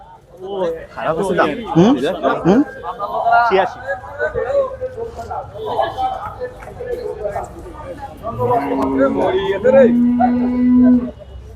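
Cattle at the Meradia cattle market low in drawn-out moos near the end, loud and close, with people talking over the crowd noise throughout.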